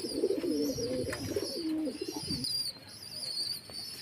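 Pigeons coo in a loft where squabs are being fed, a close rolling murmur of low warbling calls for the first two and a half seconds, then fading to quieter background ambience with faint chirps.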